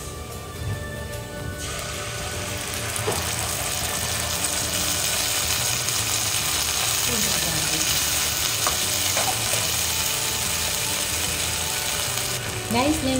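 Sardines sizzling and frying in a pan with bean sprouts and spinach, a steady crackling hiss that fills the whole stretch, with occasional clinks of a utensil stirring near the end.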